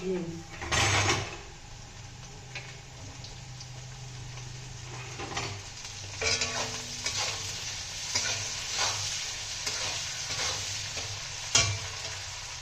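Potatoes and other firm vegetables sizzle in hot oil for Hakka noodles, with a steady frying hiss broken by the clicks and scrapes of stirring. Voices talk over the cooking.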